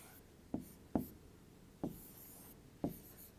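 Four sharp marker or chalk strokes on a board during a syllogism class, each a quick rasping scrape spaced about half a second to a second apart, close and fairly quiet with no talking.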